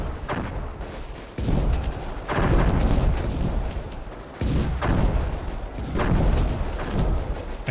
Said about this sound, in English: it looks like they're just shooting AP rounds at infantry